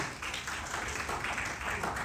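A church congregation applauds during a sermon, with dense, steady clapping from many hands that fills the space at moderate volume.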